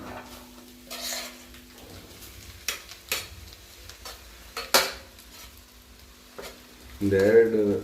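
Cooked rice for egg rice is stirred and fried in a hot pan, giving a soft sizzle punctuated by sharp clanks and scrapes of a utensil against the pan, with a brief voice at the end.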